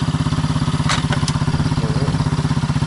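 A Mowgli Sharp ATV engine runs close by at a steady idle, its rapid even thumping pulses continuing throughout as it is put into forward gear, with a couple of brief metallic clicks partway through.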